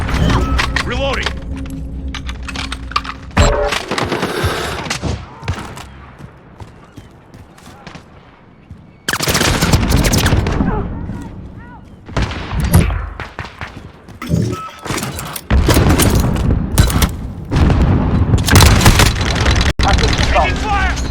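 Bursts of video-game gunfire crackle through a noisy firefight, with loud broadband blasts and thuds coming in clusters between quieter gaps while voices talk over the action.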